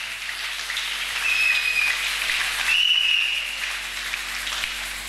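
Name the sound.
congregation applauding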